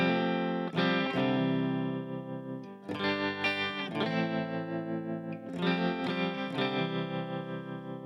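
An electric guitar plays through an amp with tremolo, sustained distorted chords ringing out in three strummed phrases, the tone pulsing and wavering over the held notes.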